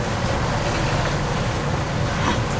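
A motorboat passes on open water with a broad, steady engine rumble and wash, fairly close and even throughout, with no speech.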